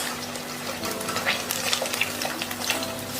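Pieces of fish sizzle steadily in hot oil, turned over as they reach golden color for a spicy mango fish fry, with soft stirring scrapes and small pops over a constant crackling hiss.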